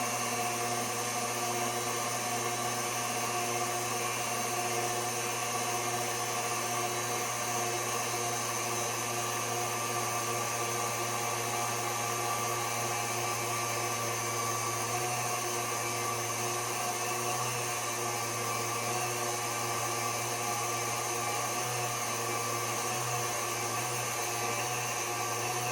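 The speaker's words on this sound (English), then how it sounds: "You can hear the motor is working harder" An ice cream maker's electric motor churns thickening banana pudding ice cream with a steady, unbroken hum and whine that holds for the whole span, fairly quiet with no talk over it.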